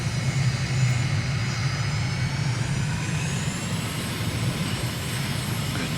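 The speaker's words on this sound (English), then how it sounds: "Taking off on runway 31." A flight simulator airplane's engine roars on the takeoff roll at Incheon, South Korea: a steady, loud engine drone with a rising whine that climbs in pitch as the aircraft speeds up, heard alone.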